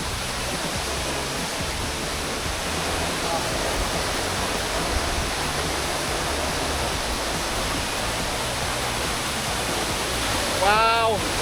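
The Tad Fane waterfall in southern Laos roars as a steady, loud, broadband rush of falling water that fills the whole stretch without a break.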